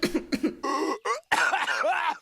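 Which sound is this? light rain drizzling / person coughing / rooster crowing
person coughing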